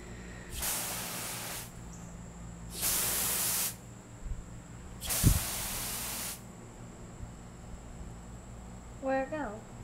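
Three separate bursts of spraying, each a loud, steady hiss lasting over a second, come with short pauses between them, and a voice speaks briefly at the end.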